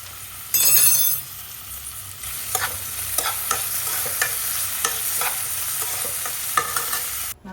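Onions and tomatoes fry in hot oil for prawn biriyani masala, with a close, steady sizzle broken by repeated scraping stirs and a short louder burst near the start.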